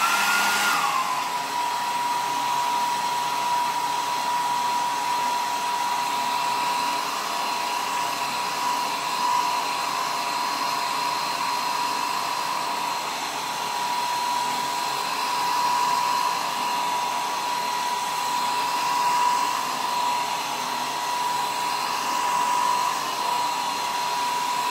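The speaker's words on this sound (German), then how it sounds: "weil ich mit dem Föhn ran muss." A hair dryer blows continuously at close range while drying acrylic paint, a loud steady whooshing hum with a constant whine that holds unchanged for the whole stretch.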